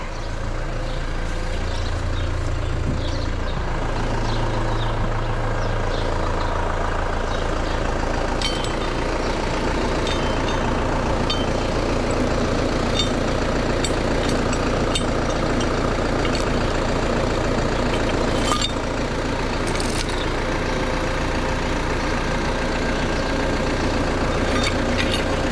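A heavy tractor engine runs steadily on a goat farm, a loud low rumble with occasional clanks and knocks over it.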